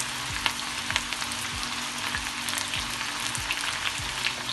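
Sliced onion and two large green chilies sizzle steadily in a cup of hot oil while a Shola dish is cooked, a dense continuous frying hiss with faint stirring clinks, no talking.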